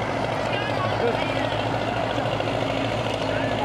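A tractor engine runs at a kupkari horse game gathering, a steady low rumble continuing throughout beneath voices talking nearby.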